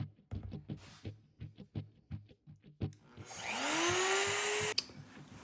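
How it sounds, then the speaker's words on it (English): A router cutting a pickup cavity into an Explorer-style guitar body against a clamped template: a few light taps and knocks, then the motor whines up loud and steady as the bit bites into the wood, and stops abruptly. "I routed out this pickup cavity to the proper depth using this template"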